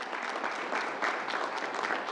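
Audience applause at a New York governor's COVID update briefing, a soft, continuous patter of many hands clapping, fairly distant and even, lasting a couple of seconds.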